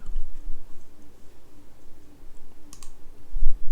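Close keyboard typing produces scattered light clicks and taps at an uneven pace, with a small burst of keystrokes near the end.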